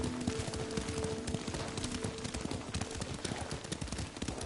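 Horse hooves pounding steadily while riding in Ghost of Tsushima, a dense continuous clatter of galloping with busy ambient noise throughout, no talk over it.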